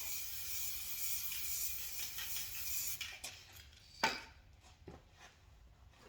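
Hydrodipping activator sprays in a steady hiss onto film in a dip tank for a gun slide, the spray cutting off halfway through and followed by a few faint clicks and taps.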